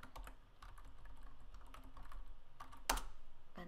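Computer keyboard typing, a quick run of keystrokes capped by a sharper Enter press near the end, close and clear over a faint steady hum with no voices.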